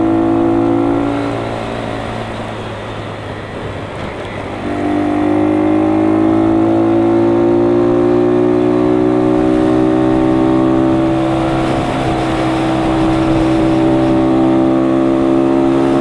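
A car engine drones loud and close on a very windy road, its pitch shifting as it keeps running for the whole stretch, with a gusty wind rush underneath and no talking.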